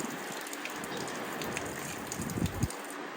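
Warm water is poured over feet at a foot-wash spot by a Maldives beach suite, a continuous close splashing rush of water with a few heavier splashes toward the end.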